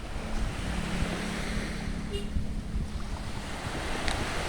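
Surf washes steadily onto the beach at Leato, Gorontalo, by a Japanese cargo shipwreck site, a continuous hissing roar of waves mixed with gusty wind buffeting the microphone.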